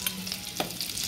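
Chopped garlic drops into butter sizzling in a pan for a simple vegetable soup, giving a steady close frying hiss with a brief stir-like burst midway.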